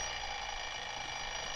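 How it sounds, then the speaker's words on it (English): An alarm clock rings in a 1948 Box 13 radio drama, a loud, continuous, unbroken metallic ring filling the whole moment with no voices. "I set my alarm for 5 the next morning."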